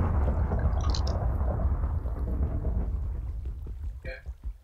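Thunderstorm in Minecraft, a deep rolling rumble of thunder that fades out toward the end, with a brief voice near the close.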